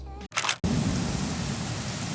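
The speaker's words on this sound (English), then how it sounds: "I literally woke up from the couch because of the thunderstorm." Heavy rain pours steadily outside at night during a thunderstorm, a dense, even roar after a brief clicking sound at the start, with no talk.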